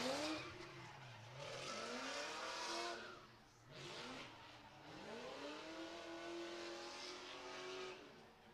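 A drift car with a big 6.0 engine and a Whipple supercharger revs and slides through a course, its engine note rising and falling in long sweeping pulls with tire squeal, heard from a distance and fairly faint.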